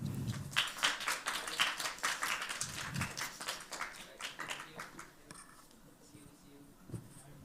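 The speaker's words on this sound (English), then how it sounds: "So let's give him a big applause." Audience applause for a presenter at an education conference session, a dense spread of claps from a crowd that builds and then thins out, with some speech mixed in near the end.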